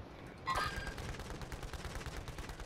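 Sustained gunfire in Call of Duty Warzone: a sharp shot, then dense, continuous rattling fire close by.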